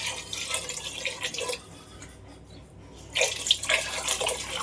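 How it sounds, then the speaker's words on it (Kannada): Water poured into a grinder jar holding ground masala, a splashing stream that pauses for about a second before pouring and gurgling again, close and moderately loud. "ಮಸಾಲ ರುಬ್ಕೊಂಡು ಇಟ್ಕೊಂಡಿದ್ದಂತಹ ಜಾರಿಗೆ ಒಂದು 3 ಗ್ಲಾಸ್ ನೀರು ಹಾಕಿ"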